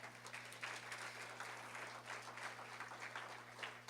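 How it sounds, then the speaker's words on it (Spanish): A church congregation gives the Lord a round of applause, faint and distant, with scattered claps over a steady low electrical hum. "Denle un aplauso al Señor por eso"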